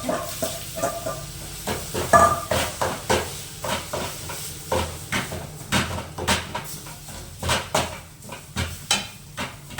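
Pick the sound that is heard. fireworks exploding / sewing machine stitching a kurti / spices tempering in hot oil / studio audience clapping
spices tempering in hot oil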